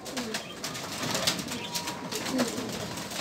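Pigeons coo softly and repeatedly close by, with faint wing and shuffling sounds against a low background hiss.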